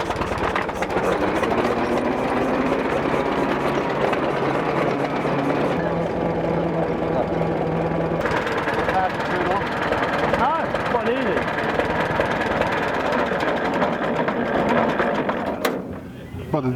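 A steady engine running loud and continuous, droning throughout with a rough, vibrating hum before the throttle is shut off and it drops away at the end, with people talking over it.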